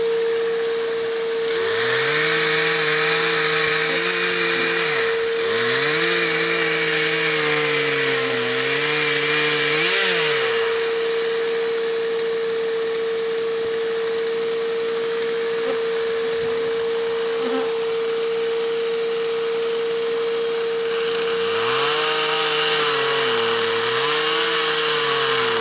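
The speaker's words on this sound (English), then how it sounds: "Damn chainsaw gotta be killing a million bees." A chainsaw cutting during a bee relocation, its engine revving up and dropping in repeated loud bursts, close by, with a steady high whine and quieter idle stretches between cuts.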